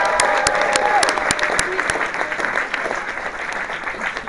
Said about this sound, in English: Give yourselves a round of applause for coming out to see a ninja!